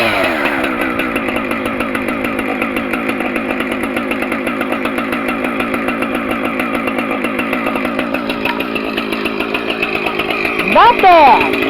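A chainsaw cold-started and running, its engine buzzing loud and steady throughout with a rise in revs near the end; voices can be heard alongside.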